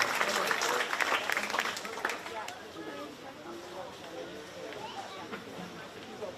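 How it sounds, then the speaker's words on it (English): Clapping from a county fair livestock show crowd for 4-H crossbred breeding gilt exhibitors, a loud dense burst at the start that thins into scattered claps with crowd chatter over the remaining seconds. "Let's give those exhibitors a round of applause"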